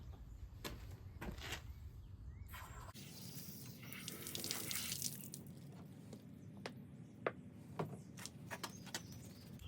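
Water from an outdoor spigot splashing as a washcloth is washed out with soap, a steady running gush with wet squishing and scattered drips, close by and moderate in level, with no talking.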